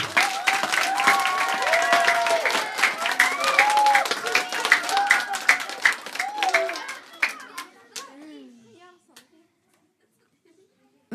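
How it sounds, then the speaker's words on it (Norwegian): An audience claps warmly to welcome sixth-grade pupils from a school onto the stage at a children's book event. The dense, steady applause fills most of the stretch, with children's voices mixed in, then tapers off to near silence. "Så dere kan klappe for de, ønsker de velkommen."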